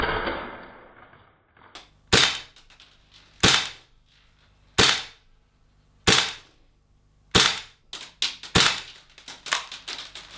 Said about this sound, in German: Und nach dem letzten Schuss hört die Airsoft automatisch auf zu schießen, genauso wie beim Original.